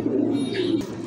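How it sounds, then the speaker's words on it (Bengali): Pigeons in a loft, a fit, healthy breeding pair, coo softly in a low, rolling murmur for about a second, close by and steady, with a brief click near the end. "দেখেন কবুতর খুবই সুন্দর মাশাআল্লাহ"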